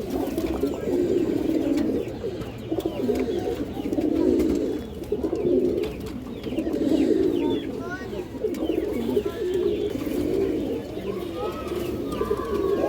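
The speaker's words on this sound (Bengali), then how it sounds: "বড় সাইজের সিলভার বাঘা খাকি মাদি কবুতর" A flock of pigeons, including big silver Bagha Khaki hens, keeps up a continuous low, throaty cooing that rolls in overlapping waves, close and fairly loud, with a few faint chirps above.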